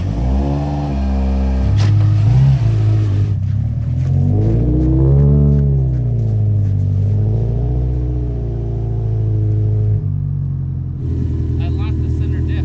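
A 2009 Subaru STI hatch engine rumbles and revs as it drives and strains in snow, pitch rising and falling, with voices talking over it.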